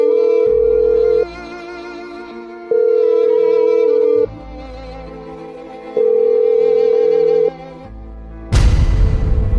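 An outgoing phone call rings unanswered: a steady ringback tone repeats in four even pulses with short gaps, clear and close, before a sudden loud burst of noise cuts in at the end.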